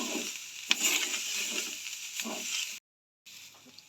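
Soya chunks sautéing in a pan until reddish give a steady close sizzle with occasional scrapes and stirring clatter, cutting briefly to silence near the end before the frying resumes.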